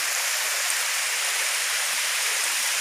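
Tobo Tobo Mini Falls in Altavista, Matalom, Leyte, Philippines pours continuously, a close, steady hiss of rushing water with no pauses or voices.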